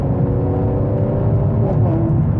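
A tuned BMW M140i from Celtic Tuning, one of the loudest in South Africa, drones with a deep, steady, close engine rumble and whir that stays loud throughout.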